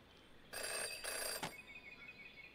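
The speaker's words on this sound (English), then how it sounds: "Jenny had learned never to ignore a ringing phone" Telephone ringing in the video game Jenny LeClue, two short electronic bell bursts close together followed by a fading tail, clear and alone against a quiet background.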